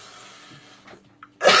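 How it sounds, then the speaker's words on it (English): A single short, sharp cough bursts out near the end, loud and close after a stretch of quiet room noise and faint murmuring. "There's one cough."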